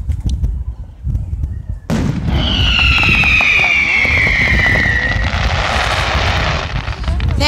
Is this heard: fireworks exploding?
yes